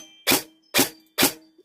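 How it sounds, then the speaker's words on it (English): An airsoft DMR rifle with a brushed, non-brushless motor fires three semi-auto shots, each a sharp close burst with a brief metallic ring from the motor, evenly spaced and alone. "The only tinging noise you're hearing is from the motor because it's not a brushless."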